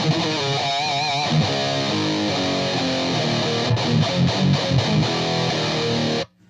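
An electric guitar played through a Ghost Note Audio Vader 140 distortion pedal, with heavy, saturated chords and riffs ringing loud and alone before cutting off abruptly at the end.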